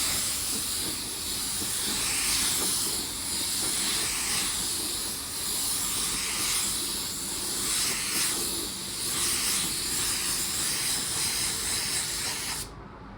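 A paint spray gun shoots the first wet coat of metallic paint, a loud steady hiss that pulses in long even passes, then cuts off abruptly near the end.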